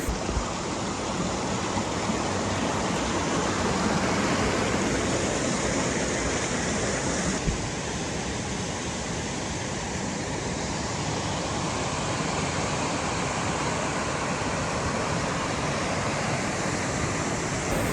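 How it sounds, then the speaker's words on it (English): A waterfall on the descent from Harman Pass roars as a steady, loud, continuous wash of water close by, unbroken for the whole stretch with no voices. "I'm just partway down from Harman Pass by this beautiful waterfall, having a wee break."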